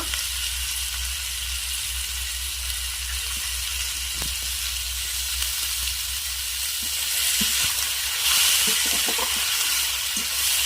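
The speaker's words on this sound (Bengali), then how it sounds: "পেঁয়াজটা আমি এইভাবে ভেজে নিয়েছি। এবার দিয়ে দেবো অল্প একটু টমেটো কুচি, পরিমাণ মতো লবণ দেব" Fried onion with chopped tomato and salt sizzling in a pan, a continuous crackling hiss that swells louder near the end with a few stirring clicks.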